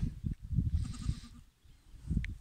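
Out in the open field, a goat with a newborn kid gives a few short, close bleats in quick succession, with low rustling and handling noise in between.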